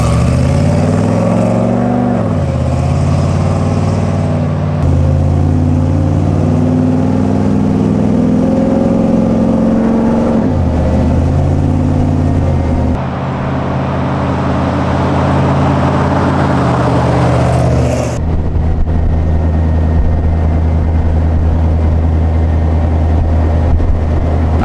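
Engine of a Toyota FJ40 drives on the road, loud and close from inside, rising and falling in pitch through several gear changes, with steady road rumble throughout.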